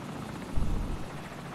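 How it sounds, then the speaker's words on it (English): An enemy helicopter in the video game Call of Duty Modern Warfare thumps with a low rotor drone that swells briefly louder mid-clip, heard without speech. "Enemy helicopter, get down!"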